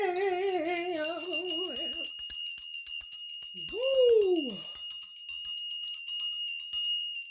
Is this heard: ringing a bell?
yes